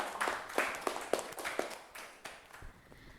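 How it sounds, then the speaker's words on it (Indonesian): Students in a classroom clapping as a group, about eight sharp claps coming in an uneven rhythm that fades toward the end. "Ya, tepuk tangan untuk kalian semua"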